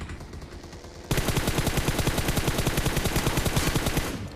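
Automatic gunfire in the battle royale game PUBG rattles in a long, loud, rapid stream of evenly spaced shots, following quieter background game noise, close and without talking.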